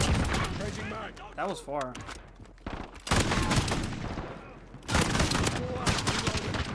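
Repeated bursts of AA-12 automatic shotgun fire with explosive rounds in the Modern Warfare video game, loud heavy volleys from about three seconds and again near five seconds, with someone talking over the earlier part.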